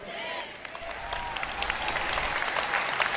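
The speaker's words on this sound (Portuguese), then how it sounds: "Tem uma senhora aqui na frente que bate palmas quando eu falo essas coisas" Scattered clapping from the audience at a church sermon builds into broader applause from the crowd. Sharp individual claps ring out over a low rumble.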